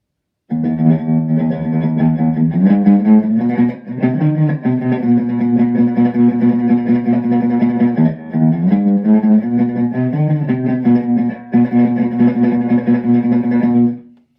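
An electric guitar plays a fast, tremolo-picked surf melody drenched in echo and reverb, bright and continuous with a couple of brief pauses.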